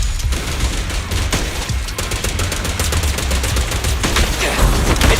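Rapid video-game gunfire from Zenless Zone Zero, a dense, continuous volley of sharp shots and bursts running loud and close for the whole stretch with no speech.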